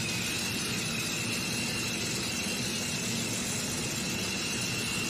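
A pulling tractor called the Limitless rumbles on the starting line at the Dorr Summer Sizzler in Dorr, Michigan, a loud, steady, unbroken engine drone mixed with broad crowd and arena noise.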